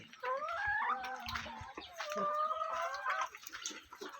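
Hens cluck and murmur in drawn-out, wavering calls close by, with light pecking and scratching sounds beneath.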